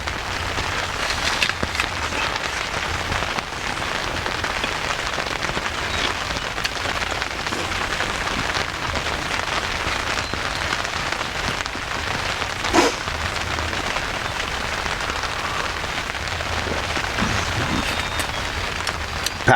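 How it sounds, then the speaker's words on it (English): Steady rain drums on a tent at a camp in a Northern Ontario clear cut, a dense continuous patter with occasional heavier drops, close and enveloping, no voices. "Oh, here comes the rain again."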